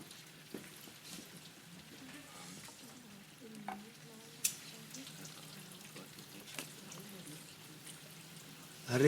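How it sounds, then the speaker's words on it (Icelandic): Rain falls as a steady, soft hiss with occasional louder drips and taps, close by and continuous throughout. "Það rignir."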